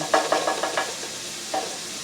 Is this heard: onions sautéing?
yes